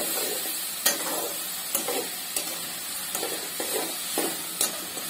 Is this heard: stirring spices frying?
yes